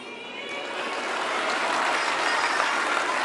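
Audience applause from a played recording, a dense, steady wash of clapping that swells slightly and holds at moderate loudness, with no voices over it.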